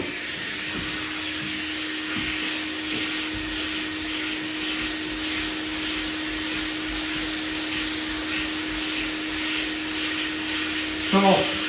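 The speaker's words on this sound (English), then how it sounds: "I use the foam pad with a 320 grit on my DA sander" A DA sander with a foam pad and 320 grit paper running steadily on filler primer over car bodywork, a continuous close whirring hum with a faint tonal whine, briefly joined by a knock near the end.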